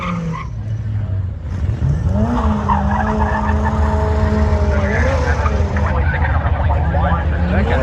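An old beater car does a burnout at Tucson Dragway during a duct-tape drag event, its tires squealing loudly in long rising and falling shrieks over a revving engine, with crowd voices faintly underneath.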